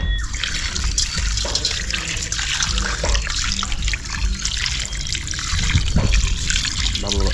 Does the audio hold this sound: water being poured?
yes